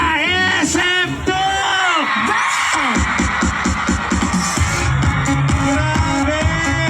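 A large crowd at an outdoor political grand rally roars, whoops and shouts continuously and loudly, with rising cheers and yells layered over a dense, sustained wall of voices.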